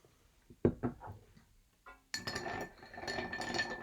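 Glassware clinks a few times during gin cocktail preparation, with sharp light taps and knocks early on, then a busier stretch of glass and ice rattling with clinks; close but fairly quiet, with no talking.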